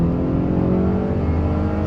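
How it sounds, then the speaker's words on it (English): A steady, loud car engine hum runs throughout while driving, a low droning rev with slight pitch shifts, heard from close by with no voices. "I'll just let you guys hear the revs right now"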